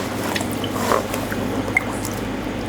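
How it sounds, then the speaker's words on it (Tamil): A sponge drops into the water of a fish tank during cleaning, giving a soft wet splash and a few faint drips and squishes over a steady low background hum. "இந்த ஸ்பாஞ்சை அப்படியே தண்ணியில் போட்டிங்கன்னா"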